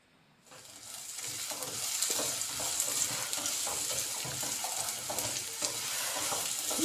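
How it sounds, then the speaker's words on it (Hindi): Potatoes frying in a pan for an omelette dish, a steady close sizzle with repeated scraping stirs of a utensil, starting after a brief quiet moment and continuing without speech. "आलूओं को हम 3-4 मिनट के लिए सही तरीके से फ्राई होने देंगे।"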